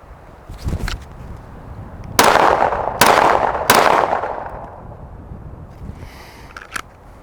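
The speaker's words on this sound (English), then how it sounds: "Do some deep shots, 20 yards." Three loud gunshots fired at body armor from 20 yards, evenly spaced about a second apart, each a sharp broadband crack with a short decaying tail, followed by quieter handling noises and a faint click.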